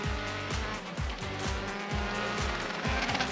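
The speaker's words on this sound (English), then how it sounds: "All three of the VAR cars coming together at the exit of Rivata 2." Euroformula Open race cars at Imola roar past in quick succession near the exit of Rivazza 2 as the engines repeatedly shift up and down, with tire noise mixed into the loud, continuous racing sound.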